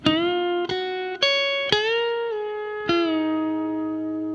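Sustained electric guitar notes with smooth pitch shifts, several picked notes bent and released in sequence, ringing clearly with no talking.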